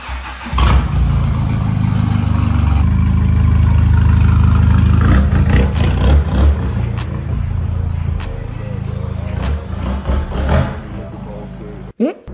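A Peugeot 206 HDI diesel car, tuned to 200 horsepower, cranks and starts at close range, then settles into a steady, loud engine rumble for several seconds before cutting off sharply, with a person speaking over it.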